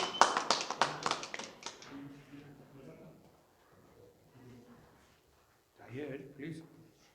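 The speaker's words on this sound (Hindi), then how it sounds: "2000 तालियों से स्वागत करिए उनका" At a Hindi poetry gathering, an audience claps to welcome a humor poet from Datia: a brief dense burst of claps fades within about two seconds, then someone speaks.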